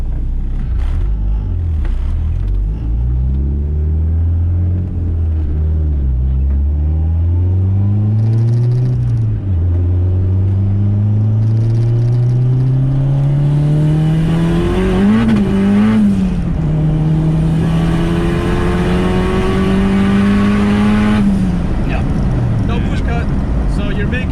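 A car running straight E85 with boost cut set at 16 psi revs hard through long rising pulls, its engine note climbing, stuttering briefly and falling back, loud and close, with voices talking over it.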